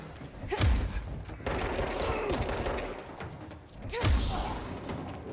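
Enemy gunfire in the action game Control: two heavy thudding shots about three seconds apart over a rumbling bed of combat noise, with muffled voices underneath.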